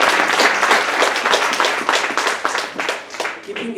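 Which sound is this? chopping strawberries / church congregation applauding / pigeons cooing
church congregation applauding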